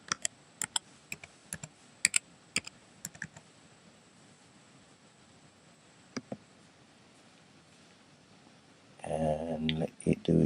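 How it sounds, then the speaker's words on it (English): A password is typed on a computer keyboard during setup of a macOS installer: a dozen sparse, crisp key clicks over a quiet room, spaced irregularly, then a louder burst of rustling noise at the end. "Type in your password."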